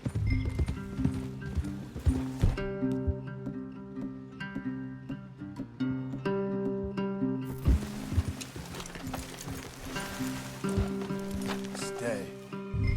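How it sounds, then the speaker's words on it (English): Steady clip-clop of horses' hooves at a walking pace in Red Dead Redemption II, close and rhythmic, over a droning musical score with occasional mechanical clinks. "Leave the horses."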